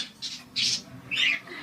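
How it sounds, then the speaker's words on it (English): A pet bluebird gives three short, shrill squawks in quick succession, close and fairly loud, with quiet pauses between calls. "Good morning, Bluebird"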